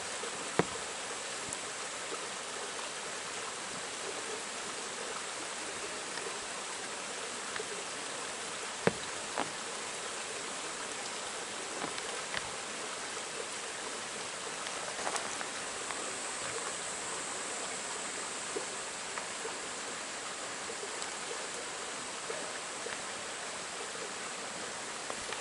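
A mountain valley stream in the Tookdong valley of Deogyusan flows steadily, a constant faint wash of water with no talk over it.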